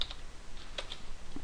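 Typing on a computer keyboard to name a new folder: a few soft, scattered key clicks at close range in a quiet room, with no talking.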